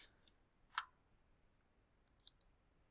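Numbers tapped out on a calculator keypad: a few quiet, crisp clicks, one near the start, another just before the first second, then a quick cluster of four light taps near the end, alone in a quiet room.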